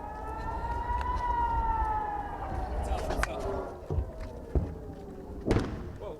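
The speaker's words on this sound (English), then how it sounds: "the sirens are near non-stop in towns close by" Air raid siren warning of rocket fire near Gaza wails in a long, slowly falling tone through the first half, fading under street noise, with a few dull thumps and distant talk toward the end.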